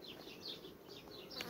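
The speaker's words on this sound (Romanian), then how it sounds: "iată ce frumusețe de ramă și cum stă albina pe ea, da? Deci lucrează albinuțele." Honeybees working on a honey frame pulled from a hive during the sunflower honey flow buzz close and steadily, with individual bees whining past over a constant low hum.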